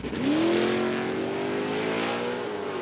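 A car with an LS V8 engine revs hard, its deep roar climbing in pitch and holding steady, loud and close with no talking over it.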